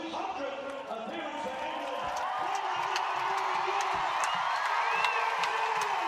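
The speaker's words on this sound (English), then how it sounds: "A worthy round of applause for a real servant to England and Great Britain hockey" A stadium crowd at a women's hockey World Cup match between USA and England applauds and cheers the England captain marking 200 caps, a broad sustained roar with scattered whoops, under a commentator's voice.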